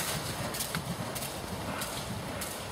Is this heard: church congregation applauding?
no